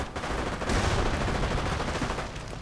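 Rapid, overlapping gunfire rattles in a World War II strategy video game as units clear out anti-tank guns, with dense bursts of shots sustained at moderate loudness for the whole stretch.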